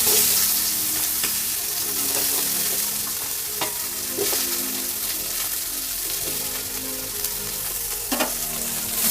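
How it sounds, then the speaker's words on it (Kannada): Onions and green chillies fry in a pan for a spicy mutton masala, giving a continuous, dense sizzle with occasional stirring clicks and scrapes close by. "ಫ್ರೈ ಮಾಡ್ಕೊಳ್ಳೋಣ."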